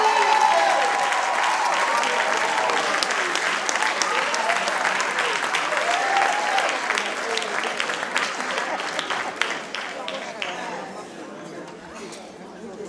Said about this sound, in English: let's give him a warm Harlem round of applause